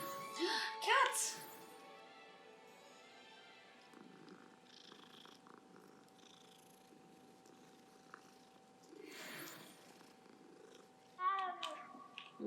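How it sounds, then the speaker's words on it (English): A cat in the Hogwarts Legacy video game purrs softly and steadily in the background, with occasional brief louder bursts of other game sounds over the top. "Cat!"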